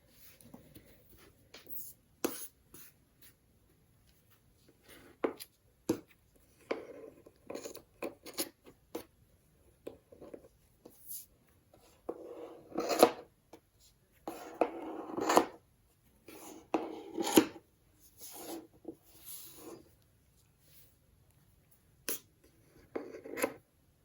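Scissors snip and trim a crocheted yarn fringe on a pocket shawl, giving a series of short, close, quiet cuts and rustles in irregular bursts with pauses between them.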